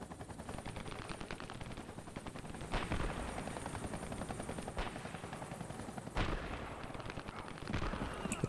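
Helicopter hovering in the shooter game Dirty Bomb, a steady dense rotor drone running throughout with sharp bursts of gunfire and impacts cutting in, loud and close, no talking.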